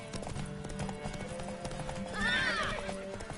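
Horse in the video game The Witcher 3: clip-clopping hooves and shuffling, then a clear whinny near the end, fairly close over soft background sound.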